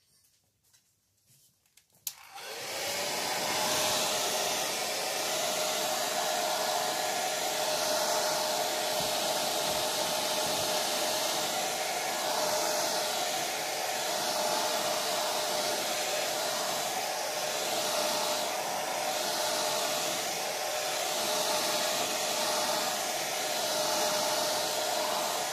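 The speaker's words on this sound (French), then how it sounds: "Sèche-cheveux." Hair dryer blowing steadily to dry a watercolour portrait painting, switching on after a couple of seconds of quiet and running as a constant loud hissing whoosh to the end.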